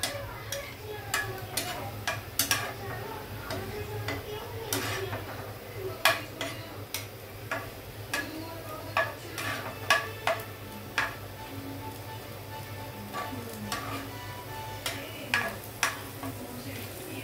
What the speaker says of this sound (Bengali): পেঁয়াজ রসুন গুলো আমি ভাজছি